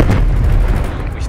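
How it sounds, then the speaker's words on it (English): Artillery strike explosions in Call of Duty: Black Ops Cold War make one loud, heavy boom with a deep rumbling tail lasting just over a second. "Artillery targeting active. Losing B. Artillery inbound."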